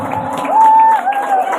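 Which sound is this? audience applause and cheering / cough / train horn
audience applause and cheering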